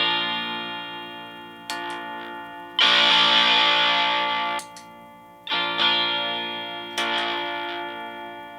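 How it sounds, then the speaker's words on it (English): A guitar played through a Distortion Bender pedal with treble-mid boost and tone filtering produces sustained, buzzy distorted chords, each struck and left to ring and fade, with a sharp new attack every second or two. "this unit provides a treble mid boost, offers distortion as well as tone filtering"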